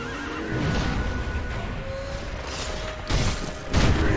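A horse neighs and kicks amid combat in the video game Sekiro: Shadows Die Twice, a whinny rising over dense clashing game noise, with sharper impacts near the end.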